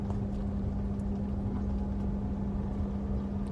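An automatic car with a learner at the wheel during a driving lesson gives a steady, close engine drone with a constant low hum throughout, and no one speaks.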